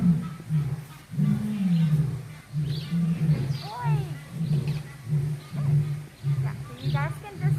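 Male lions roar in repeated low, powerful bursts at a big cat sanctuary during a morning broadcast, with overlapping calls throughout and people talking over them.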